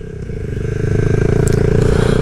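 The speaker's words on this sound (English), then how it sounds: "Engine braking is really good on this bike too." A Honda Grom fitted with a swapped-in CBR engine, engine braking on a slightly wet road. The low, throbbing engine note rises steadily, close and loud, with faint clattering. No one speaks.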